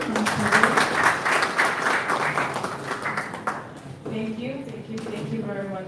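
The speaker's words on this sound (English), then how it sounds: "Another round of applause, everyone." Audience applause in a formal meeting hall at a national enterprise architecture validation event, filling the first half at moderate volume and fading out, after which a speaker begins talking.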